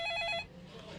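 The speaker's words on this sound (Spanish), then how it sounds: "el teléfono comenzó a sonar" A telephone bell rings in one short burst that stops partway through, followed by low room noise, with no one speaking.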